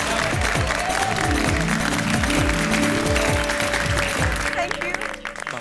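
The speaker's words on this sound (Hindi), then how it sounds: "बबीता जी, सबको प्रेरणा देने वाली आपकी सोच के लिए तालियां तो बनती है।" Loud, steady applause fills a residential-society scene from a Hindi sitcom, mixed with repeating musical stings underneath, continuing for several seconds before thinning out at the end.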